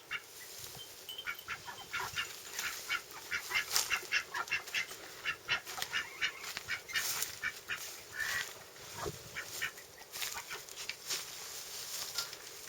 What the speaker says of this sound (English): we've got some khaki Campbell ducks